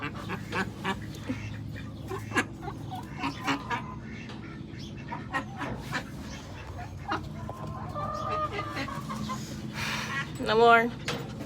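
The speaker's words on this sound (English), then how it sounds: "checking for more ducks. See if we got any more hatching." Ducks in a backyard hatching area give scattered quacks and clucking calls throughout, with a louder burst of calls near the end over steady outdoor background.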